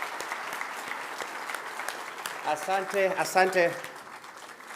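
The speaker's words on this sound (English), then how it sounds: "He deserves another clap." Sustained applause from an audience fills the clip, while someone speaks briefly over the clapping partway through.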